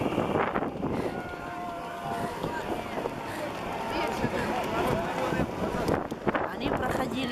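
Gusty wind buffets the microphone in rough, uneven bursts while a person speaks over the roar outdoors.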